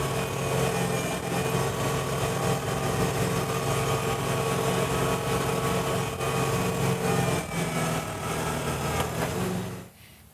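A Land Pride RTR reverse tine tiller on a tractor making a fast pass through firm ground, a loud, steady engine and rotor drone with a churning tone, close throughout before fading sharply at the end.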